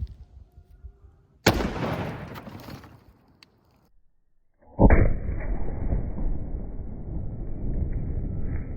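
A .308 rifle fires a 125 grain Speer TNT bullet into ballistics gel, giving one loud, sharp crack that rings out and fades over about two seconds. A second broad blast follows with a long sustained roar behind it.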